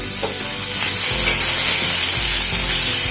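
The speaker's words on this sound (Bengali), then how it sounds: "আবারও একটু ভেজে নেব।" Flat beans with tomatoes, salt and turmeric fry in a pan, giving a loud, steady sizzle and hiss, close up, with faint stirring scrapes and no talk.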